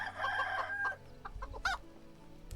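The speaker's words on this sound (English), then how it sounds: "Chickens!" Chickens in the medieval farming game Medieval Dynasty cluck and crow in a busy burst of fowl calls near the start, then scattered clucks and a sharp squawk follow over faint game ambience.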